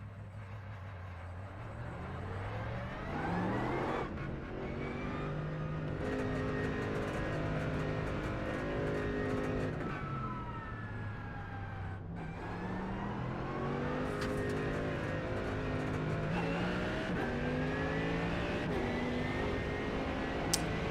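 A Mercedes GT3 race car engine in a racing game at Daytona, revving up and down through gear changes with a smooth rising and falling drone that holds steady and loud throughout.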